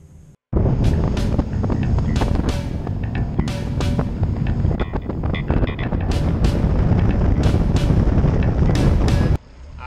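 A bass fishing boat idles on the St. Lawrence River during tournament practice. A low engine drone sits under loud, gusty wind buffeting on the microphone, steady for about nine seconds.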